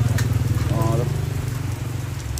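Steady rain patters over a morning market in Sungai Bayor, Selama, Perak, a continuous even hiss with a low background hum and no talking.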